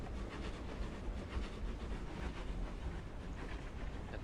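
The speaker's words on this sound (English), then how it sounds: "let's hop back on the train" Train ride in the Second Life virtual world, a quiet, steady rumble with faint rhythmic clatter running continuously throughout.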